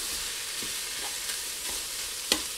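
Chicken sausage and onions sizzling in a Ninja Foodi on sear/sauté, a soft steady frying crackle with a few scraping stirs and one sharper clink near the end.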